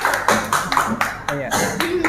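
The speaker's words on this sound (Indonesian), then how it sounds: "kita kasih tepuk tangan dulu untuk kelompok 1" A classroom group claps for the first group's presentation during a teacher-training lesson, making loud, fairly even, rhythmic claps close by, with voices talking over them.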